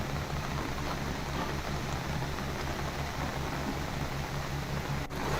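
Heavy rain pouring steadily in the Nainital hills, a dense continuous wash of drops with a low rumble beneath, constant and close throughout with no voices.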